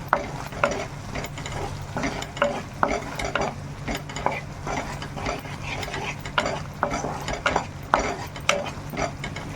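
Potato and capsicum sauté in a pan with coriander powder, cumin powder and salt, with a continuous sizzle and a busy run of rhythmic spatula scrapes and clacks.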